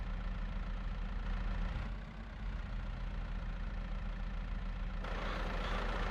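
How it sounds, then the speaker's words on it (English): A tractor engine idles in a farming video game, a steady mid-low rumble that dips briefly and then brightens with added hiss toward the end, with no talking. "Stop, tractor."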